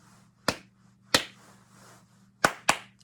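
A music teacher claps a short rhythm, four crisp separate hand claps with two long gaps and then a quick closing pair, clear and alone over a low background hum.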